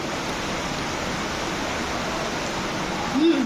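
Heavy pouring rain falls outside as a steady, dense broadband roar, continuous and fairly loud, with a brief brighter thump near the end.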